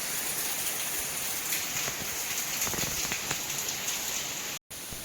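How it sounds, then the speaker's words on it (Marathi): Heavy monsoon rain pours steadily in a village setting, a dense unbroken hiss of drops hammering surfaces, with a brief dropout near the end. "खूप पाऊस आहे, ते पाहू शकता आपण."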